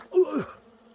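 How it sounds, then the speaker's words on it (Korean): Honeybees buzz close up in front of a hive just disturbed while swarm bees are being collected, a brief rising-and-falling drone of insect wings lasting under a second with no talk. "벌들이 또 잘 들어가질 않네요. 앞에서 윙윙거리고 얘네들 빨리 들어가야 되는데 들어가질 않습니다."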